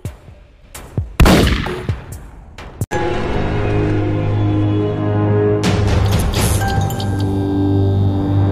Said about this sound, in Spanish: Ella disparó su arma al aire, destruyendo la luz sobre nosotros